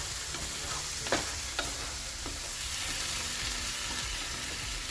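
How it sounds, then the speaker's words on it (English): Fire roasted diced tomatoes tipped into a pan of low carb Mexican one-pan dinner and stirred in, a faint steady sizzle with a few brief scraping strokes and soft clinks, no voices. "in goes the fire roasted diced tomatoes. I'll use more than half of that can. And incorporate that in the mix."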